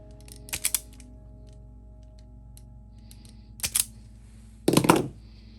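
Wire ends are cut off before fitting crimp connectors. Three short, separate snips come a few seconds apart over a quiet background hum, and the last cut is the loudest.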